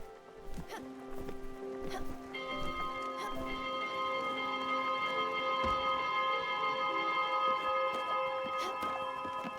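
A bell rings in the video game Spiritfarer, sustained metallic tones swelling and holding steady over several seconds, fairly soft, with a few scattered clicks and taps over the ringing.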